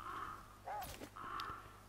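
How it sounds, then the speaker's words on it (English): Crows caw in The Flame in the Flood video game, a few harsh calls sounding alone against a quiet background, close and clear. "Oh, lots and lots of crows."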